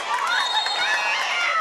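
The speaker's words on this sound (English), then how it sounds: "this Shelby Valley crowd not liking that call" A basketball crowd at the Coalfields Legends Classic erupts in loud, dense jeering and shouting against a referee's call, a steady roar of many voices close and continuous.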